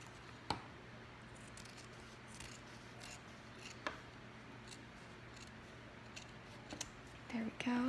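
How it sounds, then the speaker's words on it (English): Scissors cut paper along drawn lines in a sewing project, giving faint, soft snips and rustles at close range over a low steady hum. "Then I'm just gonna cut along those lines."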